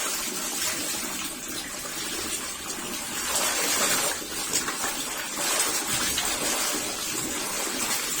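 Water runs steadily from a tap during a laundry rinse, a continuous splashing gush filling the whole stretch at moderate loudness with no talking.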